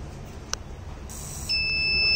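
A faint electronic tone from an IoT posture-detection device's buzzer starts and holds steadily, a thin high beep sustained after a brief click, in a quiet room.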